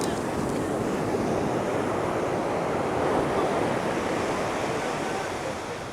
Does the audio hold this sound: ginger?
no